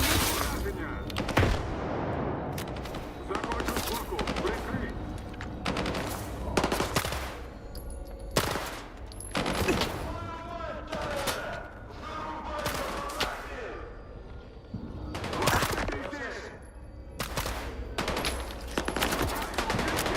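Automatic rifle fire from the player's weapon in STALKER 2, loud and close, firing in repeated bursts across the whole stretch with brief pauses between volleys, a voice talking now and then over it.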